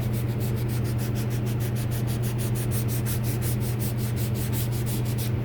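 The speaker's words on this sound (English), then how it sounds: "this is a 320, so I'm just going to give it a once over, going with the grain." Fine 320-grit sandpaper rubs along the grain of a wooden lamp in about twenty quick, even strokes, each a close, raspy swish riding over a steady low hum.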